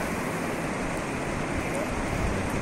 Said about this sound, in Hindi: तो साथ ही यहाँ का पानी भी, चश्मे का पानी भी बहता रहता है।